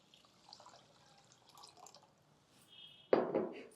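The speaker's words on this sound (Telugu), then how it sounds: "1కి 2 గ్లాసులు నీళ్ళు పోసేద్దాము." Water is poured into a pressure cooker holding rice: faint drips at first, then a short, louder splashing pour near the end.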